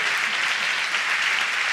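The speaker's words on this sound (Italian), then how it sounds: "Fate un grandissimo applauso." A podcast studio audience gives a big round of applause, a dense, even wash of clapping heard alone at moderate volume for the short stretch.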